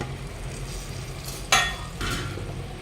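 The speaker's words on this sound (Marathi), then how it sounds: "हळूहळू तूप टाकू आपण छान मस्तपैकी कमी गॅसवरच भाजायचं डाळीच्या पिठाला" Ghee stirred into gram flour roasting in a pan over a low flame for rava besan ladoo, giving a soft, steady sizzle with faint stirring scrapes and a brief clink near the middle.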